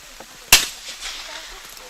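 A single sharp shotgun blast cracks out at a para trap shooting world championship final, loud and close, its echo fading quickly over steady rain.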